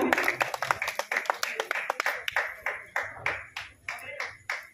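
An audience at a Kosli poetry gathering claps to welcome a poet onto the stage, a loose series of distinct hand claps, fairly close, slowing and spacing out toward the end.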